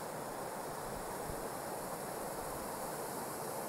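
Water pours over a dam spillway below a sediment-filled reservoir, a steady, dense rushing roar that is constant and moderately distant, with no talking.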